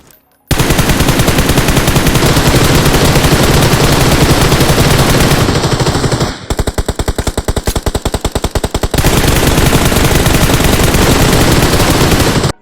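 Sustained automatic gunfire from players firing blindly into smoke in the game BGMI: loud, dense bursts nearly nonstop, with a sharper rapid stutter midway before the heavy fire resumes, no voices heard.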